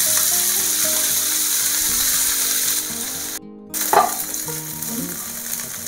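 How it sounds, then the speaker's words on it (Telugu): Mint leaves fry in a little oil in a pan, a steady loud sizzle throughout that briefly cuts out, then returns with a few stirring scrapes. "పుదీనా కొంచెం ఫ్రై అవ్వాలి"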